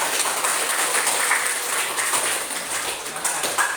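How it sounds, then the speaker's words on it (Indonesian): A classroom audience gives group 3 a round of applause before their presentation, with steady, close clapping that continues throughout with no break. "Kasih tepuk tangan dulu kelompok 3."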